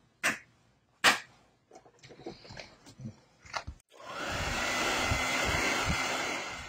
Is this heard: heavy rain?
no